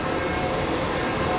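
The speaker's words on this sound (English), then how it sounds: "Here comes a red line train finishing up its run." A Washington Metro Red Line Kawasaki train arrives at Shady Grove Station platform, a steady, loud rumble of rolling wheels and motor noise filling the short moment without pause.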